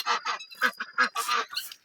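Farmyard ducks and other fowl honking and quacking loudly and close by in a series of short, rhythmic calls with brief gaps between them.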